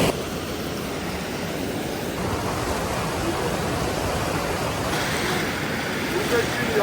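A mountain river in the Lagodekhi gorge rushes steadily, a dense broadband roar of flowing water that fills the whole stretch without pause.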